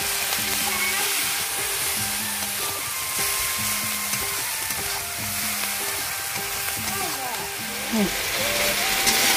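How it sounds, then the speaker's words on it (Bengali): Spice paste with turmeric, salt and slit green chillies sizzling and frying in a pan while being stirred, a constant loud crackling hiss close by, with a voice speaking over it. "মশলাটা আমার কষানো হয়ে গেছে, আর মশলার মধ্যে আমি কয়েকটা কাঁচা লঙ্কা চিরা দিয়ে দিয়েছি"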